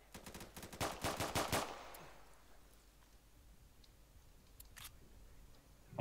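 Gunfire in a shooter video game: a rapid burst of close shots in the first two seconds, then near quiet, with one more isolated shot later.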